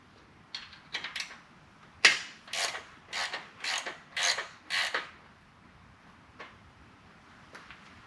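Half-inch ratchet wrench breaking loose rocker box bolts on a 2004 Harley-Davidson Road King Twin Cam, heard as a series of about eight close, crisp ratcheting clicks and creaks in quick succession, then quieter clicks.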